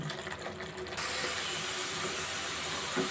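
Gas stove knob turned up while cooking a homemade chhena (cottage cheese) dish, the flame's steady hiss abruptly jumping louder a second in and holding close and constant, with faint ratcheting clicks and scraping, no talk.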